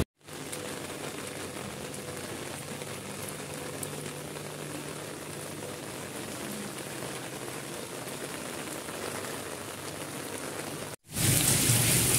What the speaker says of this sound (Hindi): आप देख सकते हैं बारिश हो रही है